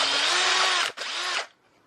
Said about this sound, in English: Okay, and then we're just gonna drill it to a 1/4.